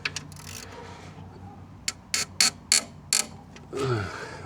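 A ratchet drives a bolt into an aluminum alternator bracket on a Mustang GT, with a short quick run of clicks followed by several distinct, spaced ratcheting bursts, close and fairly crisp.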